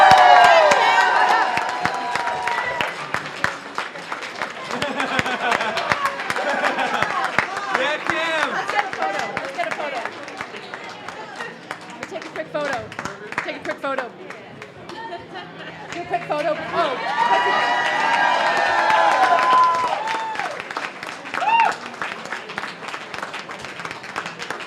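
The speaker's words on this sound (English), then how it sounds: "give them a huge, very well-deserved round of applause" Audience applause and cheering for two campaign co-chairs at an election-night gathering, lasting about twenty-five seconds with steady clapping, whoops and crowd chatter, swelling again toward the end.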